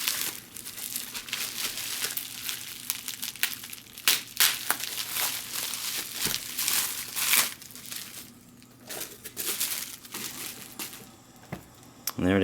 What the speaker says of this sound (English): And it's in bubble wrap paper.